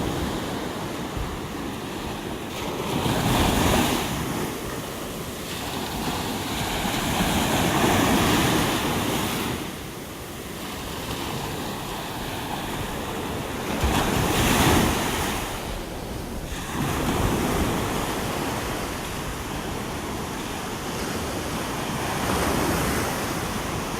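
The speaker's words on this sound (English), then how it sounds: "Some nice wave action here this morning." Ocean waves breaking on Vanderbilt Beach in Naples, Florida, on a morning walk: steady surf roar swelling and easing in repeated crashes, with wind buffeting the microphone throughout.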